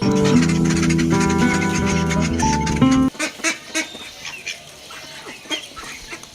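Music plays first, then cuts to a scatter of ducks quacking in short bursts nearby as they are fed chopped fodder.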